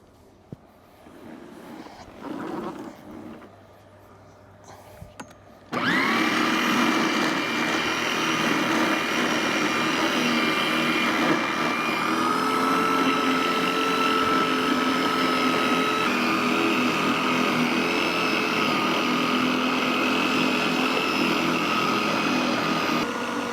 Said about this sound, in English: So we're boiling the kettle, we're running the battery